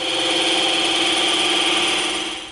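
A power tool blade makes a bevel cut through EVA foam, a loud, steady, high-pitched whine that holds evenly for a couple of seconds, then tapers slightly.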